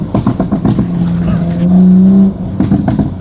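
Widebody 2020 Toyota Supra engine revving up loud and close, climbing to a sustained high rev before dropping off, with a voice briefly talking over it.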